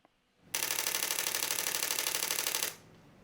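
A Nikon Z6 III firing a rapid mechanical-shutter burst at up to 14 frames per second: a dense, even rattle of shutter clicks lasting about two seconds, close and loud, then stopping abruptly, with no speech.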